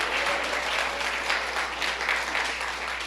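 Church congregation applauding, a dense, continuous roomful of clapping with a slight swell and fall, sustained throughout with no talking over it.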